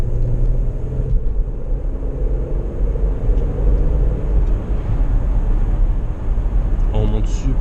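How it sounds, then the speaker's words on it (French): A 2002 Renault Espace with automatic gearbox, running on E85 ethanol, accelerating on the road, heard from inside as a loud continuous engine and road rumble that holds steady throughout. "On monte super vite à 90-100 avec cette voiture, c'est incroyable."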